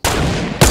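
A sniper rifle firing in a shooting video game, heard as one loud, close blast that fills the short moment, with a second burst of impact right at its end.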